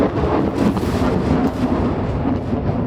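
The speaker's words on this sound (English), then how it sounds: "Ah, lightning." Thunder from lightning rolls in as a continuous loud, broad rumble at an abandoned jungle property where a pergola is being built, with no voices over it.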